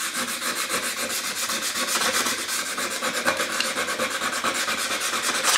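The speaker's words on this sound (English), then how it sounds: "I'm going to rough it up with a 100 grit sandpaper." 100 grit sandpaper is rubbed over a surface to rough it up before resin is applied. It makes a loud, steady rasping in quick rhythmic back-and-forth strokes, with no talking.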